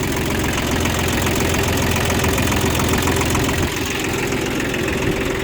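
A Shibaura SP1540 compact tractor engine idles nearby with a loud, steady rattling knock and heavy vibration, constant throughout and with no talk.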